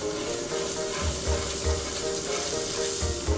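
Butter sizzling in a hot pan at the start of making kimchi fried rice: a close, continuous frying hiss with soft crackles and a few low thumps of the pan, no speech.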